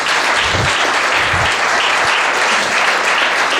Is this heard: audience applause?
yes